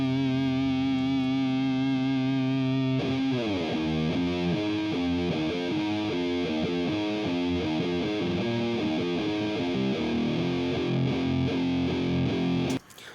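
A soloed, heavily distorted doom/sludge metal guitar track in a mix: a thick sustained chord rings first, then a churning low riff of slow, repeated palm-muted notes runs on, dense and loud, and cuts off abruptly at the end.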